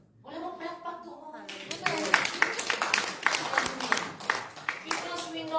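A church congregation breaks into applause: many hands clap in a dense, lively patter for several seconds, while a voice keeps talking over it.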